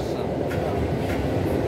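Suburban train on the Kazan railway line rumbling loudly and continuously, a heavy low roar of rolling carriages heard from on board.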